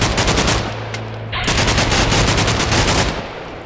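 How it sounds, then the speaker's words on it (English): Rapid, loud automatic gunfire bursts in Minecraft, a dense stream of shots that stops for a beat near the middle and then resumes, with a steady hum underneath. "I'm gonna check if I've got my sniper rifle"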